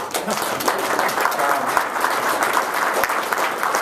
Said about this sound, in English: Let's give all who showed up a round of applause.